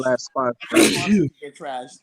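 A single sneeze bursts out in the middle of casual conversation, loud and close, with people talking just before and after it.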